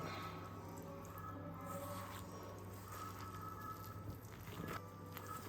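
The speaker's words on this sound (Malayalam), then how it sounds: "അപ്പോൾ ഇതിലേക്ക് ആവശ്യത്തിനുള്ള വെള്ളം ഒഴിച്ച് ഒന്ന് നല്ലോണം ഒന്ന് കുഴച്ചെടുക്കാം" Wet batter for mussel onion vada is squished and kneaded by hand after water is added, a soft, steady, close squelching under a constant low hum.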